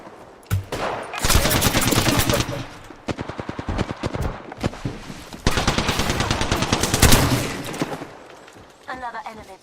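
Rapid, loud bursts of automatic gunfire in a first-person shooter video game arrive in long rattling volleys, with short gaps between them and a voice briefly talking over the shooting.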